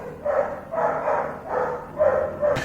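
A pet dog barks indoors in a quick run of about five loud, evenly spaced woofs over a few seconds, close by with no one talking.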